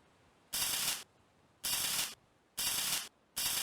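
Electric welding in a garage: four separate bursts of loud, hissing crackle, each roughly half a second long, broken by short quiet gaps.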